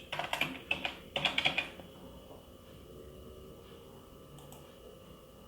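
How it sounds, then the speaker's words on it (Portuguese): A computer keyboard typed on while holding Ctrl and pressing D for a shortcut, a quick burst of crisp key clicks in two clusters followed by a quiet pause and one faint later tap, close and alone. "E agora eu seguro o Ctrl e vou apertando só o D."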